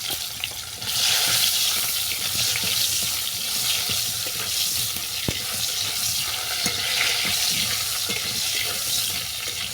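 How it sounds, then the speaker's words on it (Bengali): Cut mango pieces drop into hot oil left from frying hilsa fish, and a loud, dense sizzle bursts up. It stays close and constant, with small crackles and a single stirring clink. "এই তেলের মধ্যে আমটাকে ভেজে নেব দিয়ে দিলাম কেটে রাখা আম"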